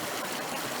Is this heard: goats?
no